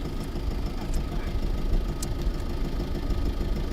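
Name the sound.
oyster boat engine returning to shore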